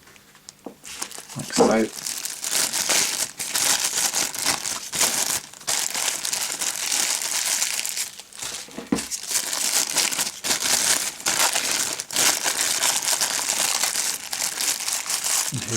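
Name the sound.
cutting and handling two-part putty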